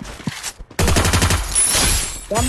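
Rapid automatic gunfire in the Free Fire battle royale game, a loud close burst of rattling shots after a few scattered single shots, continuing until the end.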